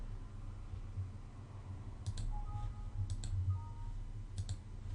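Mouse clicks on a computer while saving in software, a few sharp double clicks spaced apart over a steady low hum, close and fairly faint.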